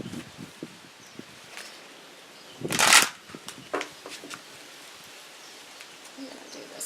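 A deck of tarot cards is shuffled by hand up close, with soft riffling flicks and one loud burst of rapid card slapping midway, then scattered light shuffles.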